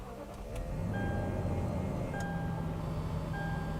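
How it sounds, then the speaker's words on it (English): A Lexus GX 460 SUV idles after a push-button start, a low, steady engine hum inside the cabin with a few soft ticks and chimes over it, moderately quiet and free of speech. "put your foot on the brake and press the start button to go"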